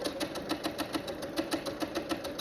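A home sewing machine stitching quilt fabric for a sampler block runs in a steady, fast rhythmic chatter of needle strokes, close and continuous with no talking.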